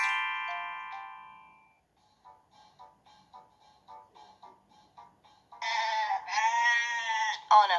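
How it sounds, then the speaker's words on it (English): Sheep on a farm bleat in loud wavering cries near the end, after a sustained musical tone and a series of soft ticking clicks. "On a farm, there live many sheep."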